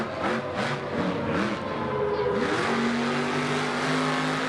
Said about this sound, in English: Doomsday is going to do its own little freestyle here